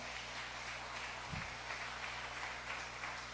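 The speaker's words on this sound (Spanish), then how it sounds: "Dele un aplauso al Señor, por favor." A church congregation applauds at a distance: soft, even clapping continues through the whole stretch at low level, with a low hum and a brief thump partway through.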